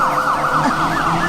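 A loud, continuous wailing siren rises and falls steadily as police vehicles and military trucks arrive, with a low engine rumble underneath.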